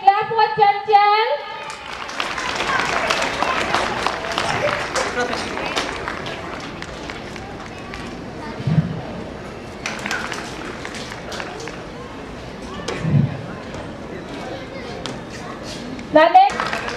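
Children clap and run about on a floor, with steady scattered claps and footsteps under frequent child chatter and an adult voice, plus a few louder bursts near the start and end.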